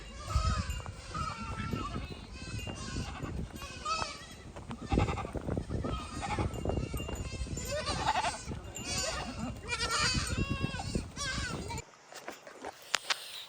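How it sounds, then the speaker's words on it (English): Goats bleat repeatedly as the herd comes back home, several overlapping calls near and far over a busy, loud outdoor background, with people talking now and then. "as you just saw, the goats are finally back"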